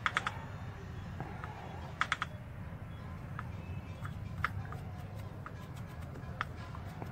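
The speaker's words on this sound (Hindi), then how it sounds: "ये सारे लहसुन काट लेंगे छोटा छोटा" A knife chops garlic finely, giving quiet, irregular tapping strokes, some in quick pairs, over a low background hum.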